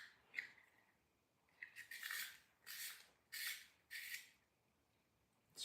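A lip liner pencil, color 35 matte from the brand Classic, is turned in a sharpener, producing four short, close scraping bursts at a steady rhythm after a couple of faint clicks.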